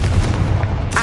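A Confringo blasting spell explodes in Hogwarts Legacy, one loud, deep booming blast that rumbles through the whole moment and swells again at the end, with no voices.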